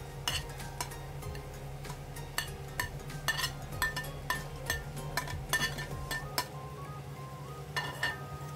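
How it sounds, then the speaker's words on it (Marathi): Roasted coarse semolina tipped into a pan of onion, tomato, peas and carrot for upma, then stirred, with repeated metal spoon clinks and scrapes against the pan over a faint steady background hum. "आता आपण शेवटी याच्यामध्ये हा जो रवा आपण भाजून घेतलेला तो घालणार"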